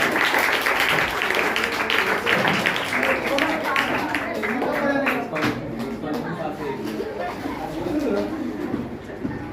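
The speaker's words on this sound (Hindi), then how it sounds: "तालियां रुकनी चाहिए।" Applause fills a school prize-distribution ceremony, dense clapping that stays loud for several seconds before thinning slightly, with voices talking over it.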